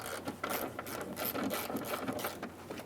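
A hand ratchet clicks rapidly and continuously while loosening a front strut bolt on a 2010–2013 Kia Forte Koup, close and steady with no speech.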